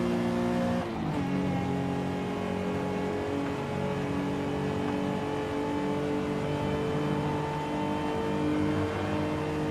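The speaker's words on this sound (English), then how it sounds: "It's a nice sounding V6." A V6 car engine revs steadily in Forza Horizon 5, a loud continuous drone with harmonic tones shifting as it pulls through long gears, with a brief dip near the start.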